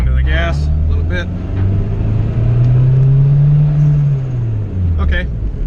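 A turbocharged B18C1 Honda Civic EG hatchback makes a half-throttle pull, its engine droning loud and close from the cabin as the pitch rises, then falls away, with brief clicks and rattles at the start and end.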